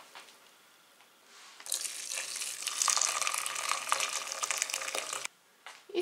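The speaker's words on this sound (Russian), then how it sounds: "Теперь это все мы с вами заливаем кипятком." Boiling water poured steadily from a kettle for several seconds, a close, bright rushing splash that stops abruptly, with no talking.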